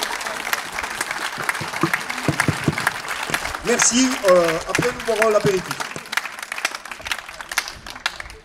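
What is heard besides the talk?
audience applauding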